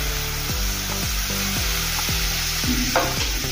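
Aloo curry being stirred in a pan after yogurt is added, over low gas, with a steady run of rhythmic scraping strokes against a soft continuous sizzle.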